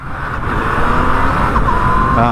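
Stock exhaust of a 2020 Yamaha MT-09 motorcycle, a loud, steady engine roar with rising revs and a brief shift-like change near the end, continuous and close.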